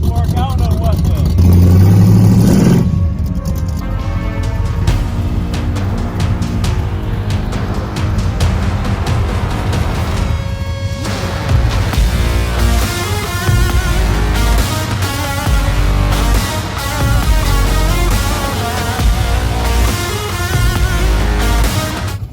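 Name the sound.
racecar driving down the driveway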